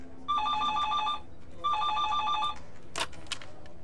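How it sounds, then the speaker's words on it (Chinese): A telephone rings in two long electronic bursts, each a trilling double tone, loud and close, followed by a couple of short sharp clicks and clatter, with no talking over it. "天真，你的电话。"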